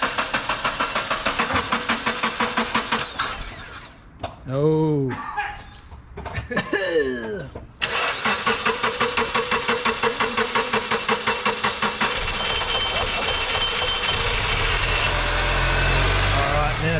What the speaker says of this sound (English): We're about to fire the car up, and it's going to be pretty smoky